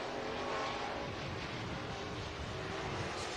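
Dirt track race cars at RPM Speedway in Hays, Kansas roar past as a broad, steady engine drone, moderately distant and continuous with no clear individual passes.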